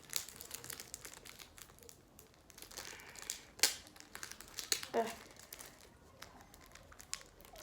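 Crinkling plastic wrapper of a Clash Royale card pack being torn open, with soft irregular crackles and a few sharper rips close to the mic over quiet background.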